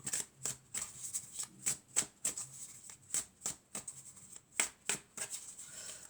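Oracle cards are shuffled by hand in close, quiet bursts, a run of crisp riffling flutters and soft slaps repeating in an uneven rhythm.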